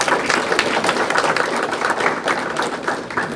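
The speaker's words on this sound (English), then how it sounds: "Round of applause." Audience applause at a spring grant celebration held by a community foundation, a dense and steady wash of many hands clapping that carries on for the full stretch at a fairly loud level.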